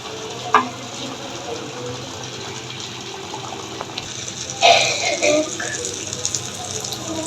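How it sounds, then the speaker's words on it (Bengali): Poa pitha rice cakes fry in hot oil with a steady close sizzle and occasional louder spattering bursts, while people talk nearby. "ওর পিঠা বানানো ফুলে উঠেছে তেলে পিঠা বানাইতে পারছে"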